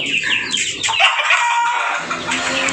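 A crowd of chickens on a village poultry farm cluck and crow loudly at close range, dense overlapping calls filling the short stretch with no speech.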